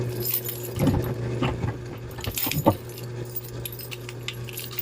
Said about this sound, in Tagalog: may nakita nga akong tali ng susi dito